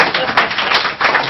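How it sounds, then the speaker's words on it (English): Audience applause at a Left Forum 2012 panel session on Islamophobia, a short burst of dense clapping from a crowd, fairly loud and continuous. "when it was unveiled, there was applause from the audience"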